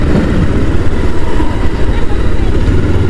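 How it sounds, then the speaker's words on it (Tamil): A motorcycle engine drones steadily during a night ride through Chennai traffic, loud and close with wind rush over a helmet-mounted camera, continuous throughout with no clear revving. "சென்னையில் பைக் ஓட்டுறது ரொம்ப கஷ்டங்க."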